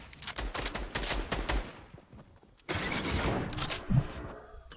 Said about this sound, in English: These other guys are firing.